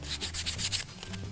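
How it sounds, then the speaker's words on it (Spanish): Wood edges of a handmade ring organizer are rubbed with 360-grit sandpaper, giving about eight quick, rhythmic rasping strokes close up. "con la lija número 360 vamos a empezar a pasar, a repasar nosotras estas puntas"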